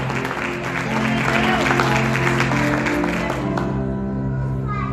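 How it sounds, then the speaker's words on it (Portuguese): Church congregation applauding at an evening worship service, steady dense clapping throughout, mixed with sustained music or organ-like tones and some voices, fading slightly toward the end. "Aplauda o Senhor bem forte, glorifique o seu nome."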